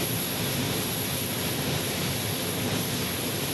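Porter Airlines aircraft at Phoenix Sky Harbor, a steady broadband engine roar with a high whine on top, moderately loud and continuous throughout, with no voices.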